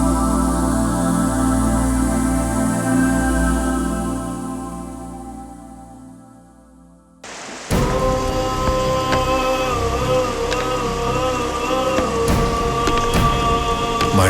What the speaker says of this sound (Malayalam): മഴ എപ്പോഴാ ശക്തി കൂടുകയെന്നറിയില്ല.